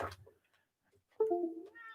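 A cat gives a clear, drawn-out meow near the end, close and fairly loud, after a brief earlier noise and a quiet stretch in a home with a wood stove.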